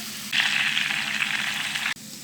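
Two spoonfuls of flour hit hot oil as a béchamel base for lasagne, setting off a sudden steady sizzle that holds close and loud for over a second and then cuts off abruptly.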